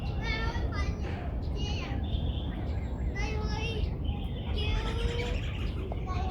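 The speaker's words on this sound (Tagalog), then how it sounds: "Chirping birds." Birds chirping in a park in Hong Kong, repeated bright tweets and calls over a constant background hum, with children's voices and distant chatter mixed in.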